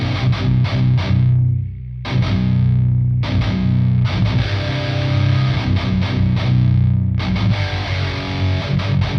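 Seven-string RUF electric guitar through heavy distortion, chugging tight palm-muted riffs with short gaps and ringing power chords, loud and close with no speech.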